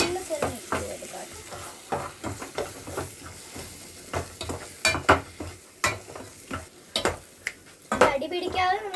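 Ingredients frying in a generous amount of oil in a pan as a spoon stirs and mixes them, giving soft scraping strokes and light sizzling at a moderate level with no talking.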